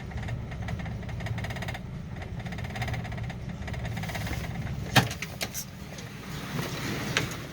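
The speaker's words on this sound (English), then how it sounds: "It's got like a little, I don't know if that's really a knock, but a little engine noise." An old car engine idles steadily in an enclosed garage with a slight knock, a low continuous rumble with a few sharp clicks near the end.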